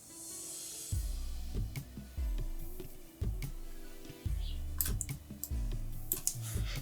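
Computer keyboard keys pressed while retouching skin in a photo editor, producing irregular close clicks and taps in short bursts, with no speech.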